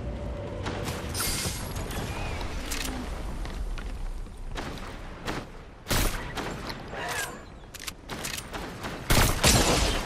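Video game gunfire in a multiplayer match: scattered sharp shots and booms crack out over a steady rumbling background, with the loudest reports toward the middle and end.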